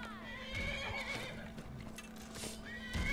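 A horse whinnies with hoofbeats in the video game Skyrim, a spectral horse in a fight with bandits, rising over a steady drone and busy game sounds with faint voices.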